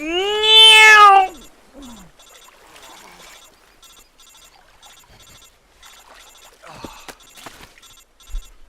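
A single loud, drawn-out meow opens the moment in the Metal Gear Solid 3 remake. Faint game sounds, a brief voice and soft clicks follow it.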